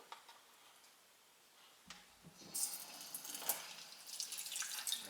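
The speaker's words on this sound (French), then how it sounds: "On va faire couler de l'eau." Water runs gently from a kitchen tap over a mold of homemade tofu to help release it, starting faint and swelling into a closer trickling, splashing flow, with no voices.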